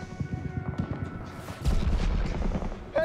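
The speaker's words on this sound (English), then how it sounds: "Bro, wait for Hill's machine gun, all right?" Machine-gun fire in a war film: scattered shots lead into a louder burst of heavy, close gunfire and booming impacts.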